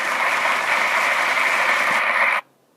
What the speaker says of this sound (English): Let me give you some applause